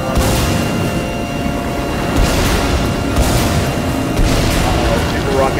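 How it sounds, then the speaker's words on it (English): Rockets exploding in the video game TAU, heavy booms rising out of a dense, constant wash of game noise, with a few stronger bursts spaced about a second apart while a person talks over them. "Super rockets again"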